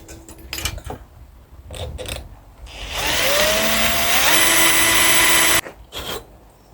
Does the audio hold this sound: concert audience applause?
no